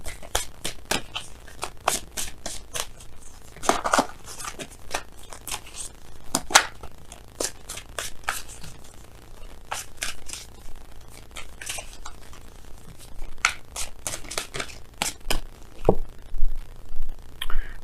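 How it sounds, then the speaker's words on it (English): Messenger Oracle cards being shuffled and pulled during a tarot reading, a long run of quick crisp riffles and snaps in irregular bursts, close and fairly loud, with no voices. "We're gonna go ahead and pull you guys some some oracle cards from Messenger Oracle."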